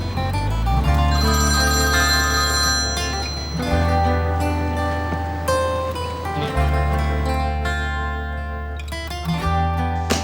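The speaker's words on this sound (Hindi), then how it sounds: "क्या फोन नहीं उठाओगे बेटा?" A telephone rings loudly and repeatedly in a steady electronic pattern, close up and with no talking over it.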